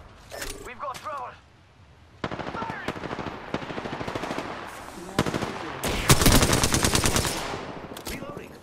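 Rapid automatic gunfire in Apex Legends, with close rattling bursts broken by short pauses and a brief quiet stretch, then heavier sustained fire near the end, with voices speaking over parts of it.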